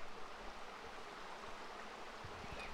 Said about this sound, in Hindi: और पानी की आवाज़ जैसे आपको आ रही हो